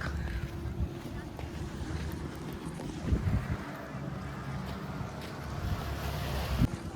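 Waves and wind at Devbag beach in Malvan, a steady broadband roar of surf and gusting air throughout, with boat-like rumble and a few sharper bumps, fairly loud and continuous with no clear talk.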